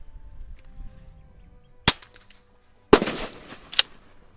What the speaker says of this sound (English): We're going to shoot it up in the air here, and you'll see what happens here.